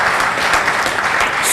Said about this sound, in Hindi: आप तालियां अच्छी बजा सकते हैं